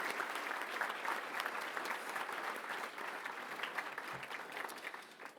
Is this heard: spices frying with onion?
no